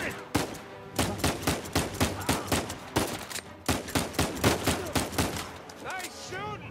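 Rapid gunfire in the video game Uncharted 4, a long run of loud evenly spaced shots firing close, with a brief voice near the end.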